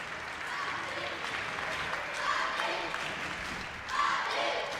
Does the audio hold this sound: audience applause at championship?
yes